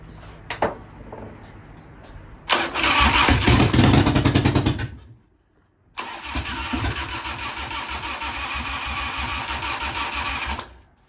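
A 1993 Harley-Davidson Softail motorcycle engine sputters, then roars to life loudly for a couple of seconds, cuts out, and restarts into a steady, rumbling run close by.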